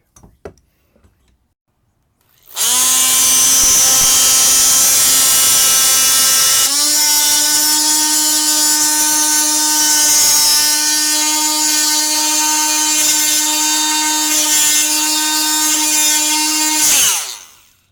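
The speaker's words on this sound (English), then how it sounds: "So I'm going to attack that with the oscillating tool with the moon-shaped disc." An oscillating multi-tool fitted with a moon-shaped blade trims the protruding ends of composite deck boards, a loud, steady buzzing whine that drops slightly in pitch as it bites, running about fourteen seconds before cutting off.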